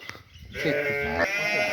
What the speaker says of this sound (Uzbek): Mana tarafdan qo'ylarni ko'rsatamiz mana